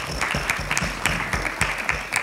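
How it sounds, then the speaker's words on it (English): Audience applause at a panel discussion of an HR forum, a modest round of clapping with uneven, scattered claps heard at middle distance in a room, fairly steady throughout. "A round of applause."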